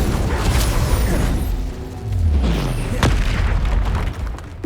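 An Incendio fire spell cast in Hogwarts Legacy bursts out as a loud, booming whoosh of flame with rumbling low blasts and crackling bursts, filling the whole moment with dense, explosive roar.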